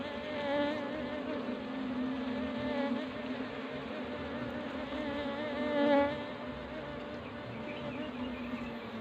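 Honey bees buzz steadily around their hive on a bee farm, making a dense, continuous drone close by that swells slightly around the middle, with no voices.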